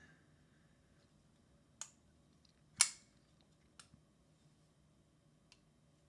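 A Greg Lightfoot Apex custom pocketknife is flicked open and shut, making a handful of crisp, close clicks spaced about a second apart. The loudest is a snappy snap in the middle, and the rest are softer ticks in a quiet room.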